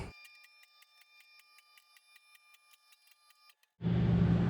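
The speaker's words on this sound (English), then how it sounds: "let's go ahead and get the car jacked up on the lift here" A workshop car lift raises a 1995 Camaro Z28 bracket race car. Rapid, evenly spaced mechanical clicks tick for several seconds, then a brief pause, then a loud pump motor roars on abruptly.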